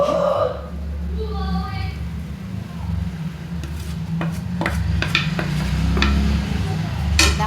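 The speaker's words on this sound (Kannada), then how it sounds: "ಚೆನ್ನಾಗಿ ಕೈಯಿಂದ ಇಲ್ಲಿ ಸೌಟಲ್ಲಿ ಮಿಕ್ಸ್ ಮಾಡಿ" Powder being stirred into hot oil with a ladle: soft, continuous scraping and rubbing of the ladle against the pan, with a few light metallic taps, under a voice and a steady low background hum.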